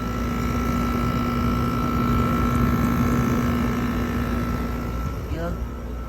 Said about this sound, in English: also like the sound of it from the GMCC compressor. It sounds great.